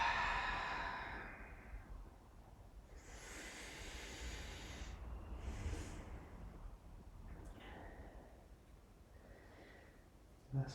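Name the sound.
slow breathing during a yoga stretch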